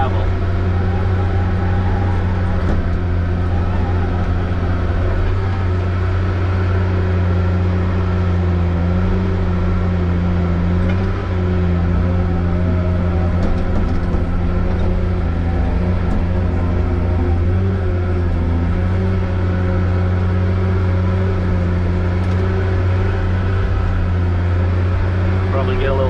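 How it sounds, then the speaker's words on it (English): A Tigercat 822 machine spreads gravel with a steady, loud engine drone and low rumble that holds constant throughout, with faint scraping mixed in. "This is so much better spreading gravel"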